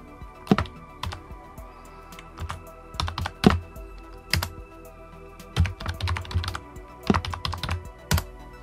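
Keys clatter on a computer keyboard while a new password is typed, giving quiet, irregular clusters of sharp taps with short pauses between them.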